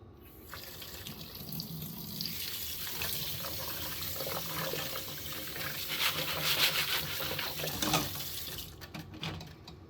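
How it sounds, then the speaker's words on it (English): Tap water runs steadily into a sink as tumbled rocks are rinsed, a continuous close splashing wash with small rattles and shifts in the flow, no talk. "But let's give these guys a rinse."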